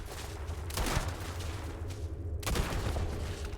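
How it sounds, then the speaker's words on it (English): Turret gunfire in the Starfield video game, a dense crackling volley of shots that swells twice, with two louder bursts over steady background din. "Somebody's got a turret."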